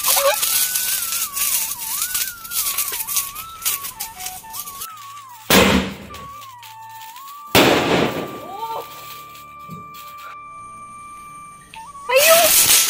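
Firecrackers burst during Kerala's Vishu festival: several sharp, loud bangs ring out at intervals, echoing briefly, while a steady tonal background sound plays between them.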